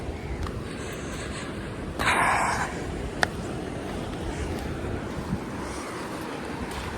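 Steady rushing waves of polluted Mumbai sea with gusty wind noise, a brief louder surge of spray midway and a faint click.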